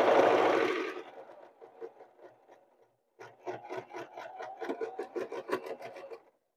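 A home sewing machine running a zigzag stitch along a pillowcase edge starts with a loud whir, slows into a softer rattle, pauses briefly, then resumes with a rapid ticking chatter before stopping.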